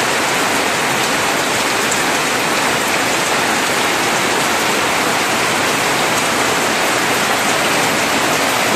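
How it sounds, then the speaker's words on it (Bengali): Heavy rain pours in a steady, dense roar of hiss and patter across the whole stretch, loud and unbroken, with no voices over it. "কি পরিমাণ বৃষ্টিটা হচ্ছে!"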